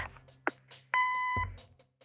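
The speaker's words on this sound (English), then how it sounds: "Leave a message after the beep." Voicemail beep in the video game Kathy Rain: a short electronic tone of about half a second, clear and close, standing alone after a brief click.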